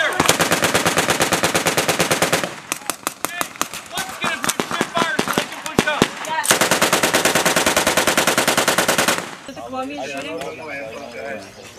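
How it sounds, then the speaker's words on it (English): Loud, continuous bursts of automatic machine-gun fire during a joint US and Colombian paratrooper combat exercise, with rapid rhythmic volleys, brief pauses, then a quieter stretch of distant shots under radio-style voices. "Necesito que me confirmen que ustedes ya no están disparando porque escuchamos disparos"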